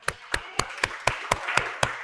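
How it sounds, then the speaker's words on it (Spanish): A Spanish-speaking church congregation claps for the Lord, eight sharp, evenly spaced claps in a quick steady rhythm, close and distinct over a quiet background. "Damos un aplauso al Señor."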